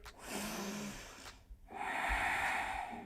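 A deep, audible breath during a hip-focused yoga session, a soft, close inhalation that rises and swells, with faint breathy sounds before it.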